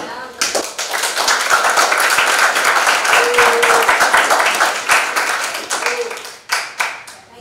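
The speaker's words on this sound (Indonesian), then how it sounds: "Kita beri aplaus ya untuk" A classroom audience claps together in a long, dense round of applause that builds quickly, holds steady for several seconds, then tapers into a few scattered claps.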